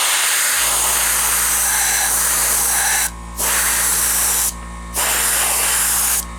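Airbrush spraying Tamiya flat flesh primer onto a figure, loud close hissing bursts in three long sprays separated by short pauses, over a low steady compressor hum.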